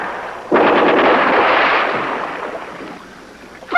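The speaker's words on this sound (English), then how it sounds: "Please stop shooting." Gunfire in a war film sets off with a sudden loud blast, then a rolling, crackling burst that slowly decays, and a fresh sharp report begins just at the end.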